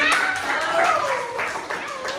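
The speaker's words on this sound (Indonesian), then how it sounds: "Tepuk tangan dulu dong" Classroom clapping for a student who asked a question, a short burst of hands from a group of pupils, fairly close and even, with a voice over it.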